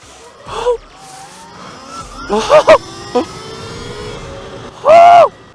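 An Ultra Bee motorbike in turbo mode launches on a drag strip, with several short, loud, close bursts of rising motor whine separated by quieter gaps.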